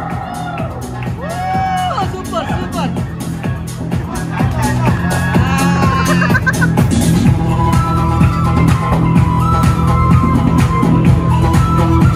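Loud clapping from an audience at a girls' ramp walk during a Dubai community event, 'Aatid Onji Dina'. Dense, continuous applause runs throughout, mixed with shouts, cheers and nearby voices.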